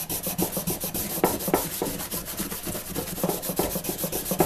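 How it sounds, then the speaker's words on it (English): Steady, close rubbing and scrubbing of a cloth working Howard Restor-A-Finish into the wooden tote of an old cross-cut hand saw, a continuous rhythmic swish with no voices. "you rub it into the surface, it loosens up the old finish, kind of spreads it out."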